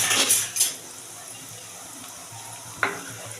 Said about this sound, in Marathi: आपला कांदा पण इथे छान फ्राय होत आहे